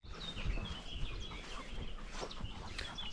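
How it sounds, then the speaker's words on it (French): Faint bird calls sound outdoors, a few chirps and clucking notes scattered over a quiet open-air background. "Pas un bruit de voiture, juste le bruit des oiseaux."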